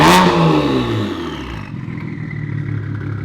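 A BMW 335i fitted with big twin turbos revs hard at the start, then the engine note drops away and settles into a lower steady drone as the car pulls off, close and loud.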